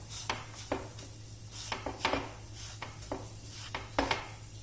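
Gram flour is roasted in a pan over low heat and stirred. A utensil scrapes and knocks the pan at regular intervals over a quiet, steady background.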